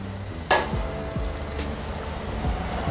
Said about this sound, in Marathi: प्रथम गाजर घालूया मटार घालूया